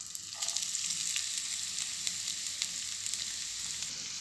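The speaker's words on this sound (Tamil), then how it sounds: "இப்போது இந்த வெங்காயம் நல்லா பொன்னிறமாக ஆகிற வரைக்கும் நம்ம வதக்கிடலாம்." Finely chopped onion fries in hot oil with a steady, close hiss. A few faint stirring scrapes come through near the start, and no one speaks.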